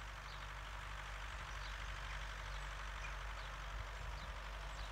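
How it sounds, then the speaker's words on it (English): A farm tractor engine runs in a steady, continuous low rumble, moderately close and unchanging in loudness for the whole stretch, with no voices over it. "there's Stoker over there coming with the tractor"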